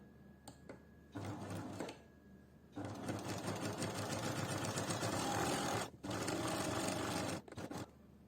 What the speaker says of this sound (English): So we will start sewing from here